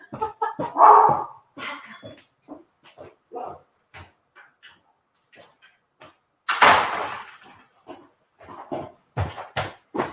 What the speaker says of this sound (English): My dog is responding to my son getting home from work.